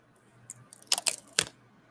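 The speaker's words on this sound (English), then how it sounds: "Let me go ahead and peel the plastic." Plastic wrap is peeled off a niche fragrance box at close range, giving a few quick crinkling, tearing rasps in short bursts amid near silence, with no talking.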